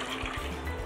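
Leftover water from blending bananas pours into a bowl, a short close-up trickling splash with a faint gurgle, about a second long and without talk.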